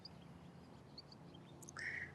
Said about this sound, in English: You've got the Canada geese.